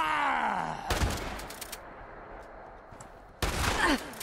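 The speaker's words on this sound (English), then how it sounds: "Drive-by shotgun shooting." Shotgun blasts in Fallout 76 come as two loud bursts, one near the start and one near the end, with a quieter stretch between them.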